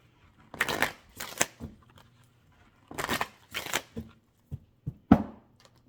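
Oracle cards being shuffled and drawn for a reading, heard as several quick papery riffling bursts in two clusters with short pauses between, ending in a few sharp card snaps, close and moderately loud.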